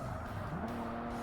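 Locked-up tires squeal under braking in Forza Motorsport, a short rising screech over the continuous hum of a car engine.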